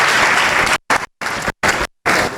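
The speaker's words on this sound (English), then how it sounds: "you should give yourself a big round of applause for this" A youth audience at a career-choices address applauds itself. Loud, dense clapping is broken by several abrupt silent gaps.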